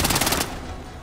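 Rapid automatic gunfire in Splinter Cell Blacklist, a loud close burst of fast repeated shots that stops after about half a second and leaves a fading tail.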